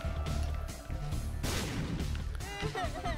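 A booming explosion in the video game The Binding of Isaac: Rebirth bursts through layered game music and sound effects, followed by further crashes while someone talks over the gameplay.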